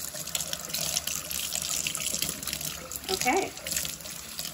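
Hot tap water runs steadily into a sink while a trumpet is washed, making a continuous splashing hiss. A voice speaks briefly over it.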